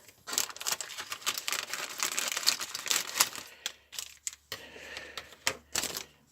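Scissors snip and crinkle through a plastic bag, a busy run of sharp cuts and rustles close by, thinning out into a few separate crackles toward the end, with no talking.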